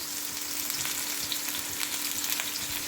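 Coconut pieces and onion frying in oil for a Kerala-style pork roast, a dense, steady sizzle close up with occasional crackles and stirring scrapes, and no voices.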